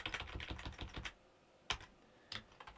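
Typing on a computer keyboard with remapped keys, a quick run of close clicking keystrokes for about a second, then a pause and a couple of isolated key taps.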